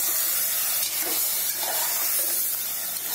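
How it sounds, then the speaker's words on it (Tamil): Mutton curry sizzling in a hot pan as the meat is stirred into the masala, a steady broad hiss with soft scraping swells, close and continuous with no talk. "எல்லாத்தையும் ஒரு கிளறி கிளறிக்கோங்க"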